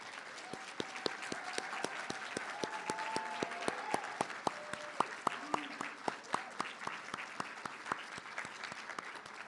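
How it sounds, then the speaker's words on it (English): Audience applause at a student awards night, with students in the hall standing as they clap; a dense, steady wash of clapping with sharp individual claps near the microphone and a voice speaking over it. "let's stand up and let's go ahead and give them a round of applause."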